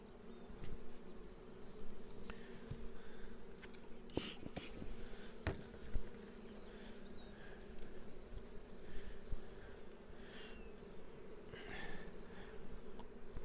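Honey bees buzz around the brood frames of an open hive, a faint continuous drone with individual bees whirring past close by and a few soft knocks.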